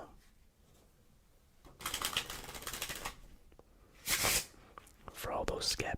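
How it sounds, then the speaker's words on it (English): A deck of playing cards is shuffled in two riffling bursts, close and crisp, over quiet background in a card magic setting. "I will give it one more shuffle."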